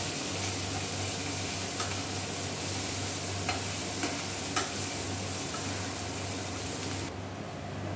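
Onions frying in a pan give a steady, close sizzle as turmeric, a few grains of sugar and spices are stirred in, with faint scrapes and taps of the spoon over the constant hiss.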